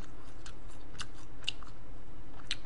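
Someone chewing a seafood stir-fry with crunchy bok choy, chewy seafood and crisp greens, heard as a few sharp crunchy bites spaced through a quiet background with no talk.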